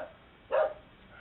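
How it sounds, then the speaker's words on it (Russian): A dog gives a single short bark midway through, fairly close and moderately loud, with quiet room noise before and after. "Чего ты гавкаешь?"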